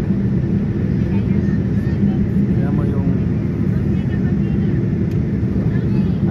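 Inside an airplane cabin in flight above the clouds shortly before landing, a loud, steady low engine and air roar fills the space without a break, with a faint voice briefly under it.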